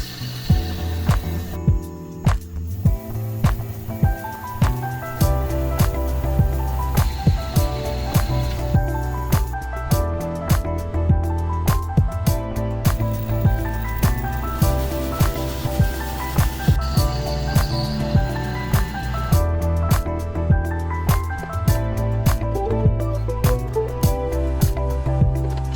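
A CNC machine cuts a metal electric scooter part held by tabs in the stock, giving a loud, continuous whine with shifting tones and repeated ticking, clicking bursts.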